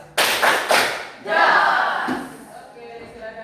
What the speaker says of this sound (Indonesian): Kita kasih tepuk jos untuk kelompok 2.